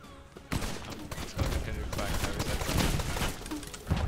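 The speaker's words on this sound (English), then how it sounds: "I'm getting shot at" Dense, overlapping gunfire rattles in rapid bursts during a naval battle in the pirate game Blazing Sails, loud and close, with voice chatter underneath.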